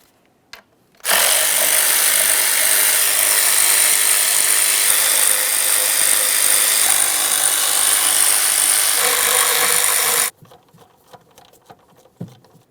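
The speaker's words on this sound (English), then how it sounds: "Let's start removing these mounting bolts." A power tool runs continuously for about nine seconds, removing the intake manifold mounting bolts on a Jeep Grand Cherokee with a 3.6L V6. It is a loud, steady, close whir with a sharp start and stop, followed by quiet clinks.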